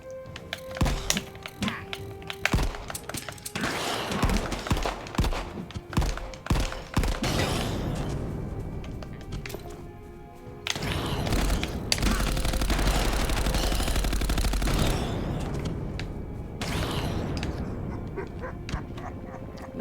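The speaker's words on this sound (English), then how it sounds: "the amount of shooting that they cram in to the very end of this whole game" Rapid gunfire from shooting creatures in a video game, bursts of dense automatic fire swelling and fading over a loud, continuous mix of game sounds, with heavy sustained barrages in the middle and toward the end.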